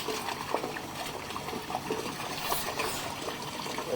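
Water running into a sinkhole beside a riser pipe, seeping through the pipe joints, gives a steady, close trickle and gurgle that holds at an even level throughout with no talking.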